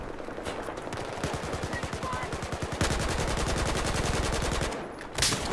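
Rapid automatic gunfire rattles in Battlefield 4, in dense, continuous bursts with a fast regular rhythm, loud and close, with some softer shots and game effects around them.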